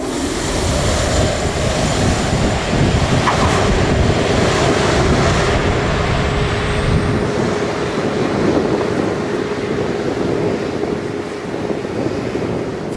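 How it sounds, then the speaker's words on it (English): A Pilatus PC-12 turboprop going around at St. Barthélemy, its engine a loud, sustained roar with a steady tonal hum that fades a little toward the end, heavy wind and surf-like rush throughout. "This PC-12 was forced to go around at St."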